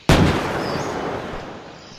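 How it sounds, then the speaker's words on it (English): A single loud cannon blast fired from a ship's deck in a survival video game, a sharp boom with a long rumbling decay and no voices. "We can fire a cannon."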